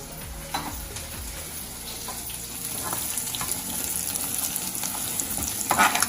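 Onions frying in a pan for chicken biryani give a steady sizzle and crackle, with occasional stirring scrapes and a few sharper pops toward the end, close and fairly quiet.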